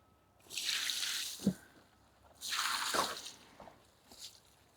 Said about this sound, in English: I'll just put that rainwater on actually.